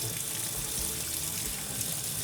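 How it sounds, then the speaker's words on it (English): Running tap water streams steadily into a sink while a paint brush is rinsed downward to clear latex paint from its bristles, a continuous close hiss with no talking. "So I am going to then just start rinsing it out."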